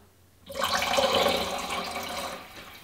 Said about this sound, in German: jetzt haben wir den wieder in Betrieb genommen und haben jetzt hier fließendes Wasser